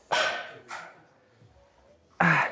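Dogs barking, three sharp nearby barks spaced apart with a quiet gap between the second and third, fairly faint overall.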